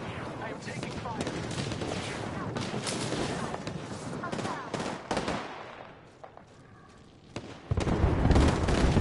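Video game gunfire crackles in dense, rapid bursts, fades to a brief lull, then returns as loud, heavy fire close by.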